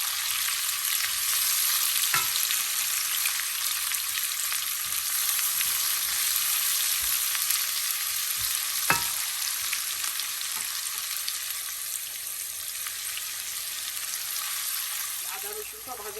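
Sliced onion, already browned, sizzles steadily in hot oil in a pan with spoonfuls of ginger and garlic paste for a broiler chicken bhuna; a continuous close hiss runs throughout, broken by a few sharp clicks of stirring.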